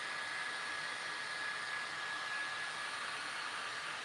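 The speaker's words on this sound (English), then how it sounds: "I'm going to turn my heat gun on, see if I can warm up the glue to stick it down." A heat gun runs as a steady, loud broadband whoosh with a faint whine, warming metal to soften hot glue on a handmade cow sign, continuous and alone without talk.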